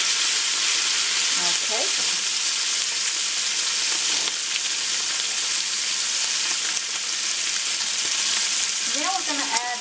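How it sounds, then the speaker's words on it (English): Bacon sizzles loudly and steadily in a pan throughout, with scraping and clinks as it is tossed. A voice speaks briefly over the frying. "give my bacon a little toss."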